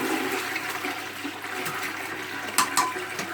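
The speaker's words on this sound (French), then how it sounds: "On tire la chasse d'eau." A household toilet flushes during bathroom cleaning, a steady rushing gush of water with a couple of sharper gurgles near the end, close and moderately loud, with no one talking.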